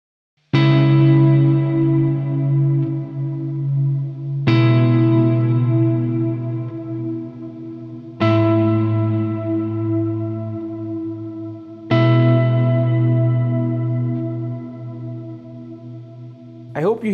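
Four sustained keyboard chords struck a few seconds apart, each swelling into a vast, washy reverb tail that lingers and blends into the next.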